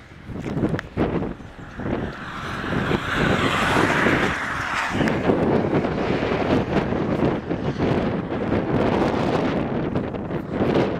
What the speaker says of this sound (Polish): No właśnie pojechał przed chwilą drugi samochód.